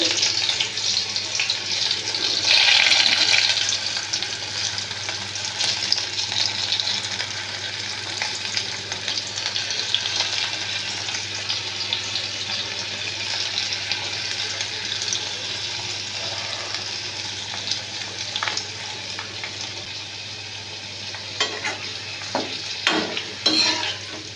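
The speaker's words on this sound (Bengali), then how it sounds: "তেলটা কিন্তু খুব ভালো গরম হয়ে গেছে এবার এগুলোকে আমি একে একের মধ্যে ছেড়ে দেব" Chana masala chickpeas fry in hot oil over lowered heat, giving a continuous close sizzle with a hissing wash and occasional stirring knocks, steady for the whole stretch without talk.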